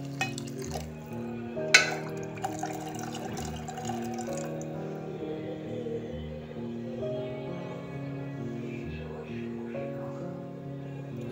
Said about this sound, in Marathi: आपण आता यात गरम पाणी टाकणार आहोत.